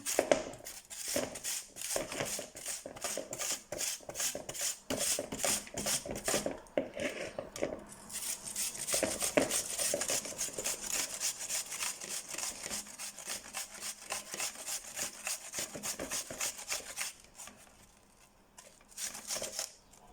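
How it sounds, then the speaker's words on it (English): An onion is rubbed against a grater in quick repeated rasping strokes, a fairly quiet, close scraping rhythm that runs steadily for about twenty seconds, briefly pausing near the end before resuming, with no voices. "So yeah, we're grating the onion, or trying to."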